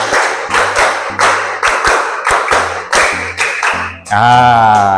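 A group claps in a repeating rhythmic pattern, two claps then five, loud and close, followed by a burst of voices at the end.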